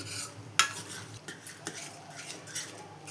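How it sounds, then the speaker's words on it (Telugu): A spoon scrapes and clinks against a pot of semolina pudding (rava kesari) in a few scattered strokes, with a sharp metallic tap early on, close and fairly quiet. "దాన్ని తిప్పుతూ ఉండాలండి"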